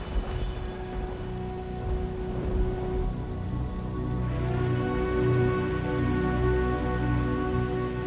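Steady heavy rain pours down throughout, a dense continuous hiss and patter with a low rumble underneath and no voices.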